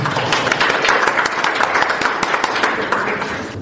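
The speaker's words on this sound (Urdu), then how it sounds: "بہت ساری تالیاں" An audience at a prize-giving ceremony claps steadily, a dense patter of many hands held at an even, fairly loud level throughout.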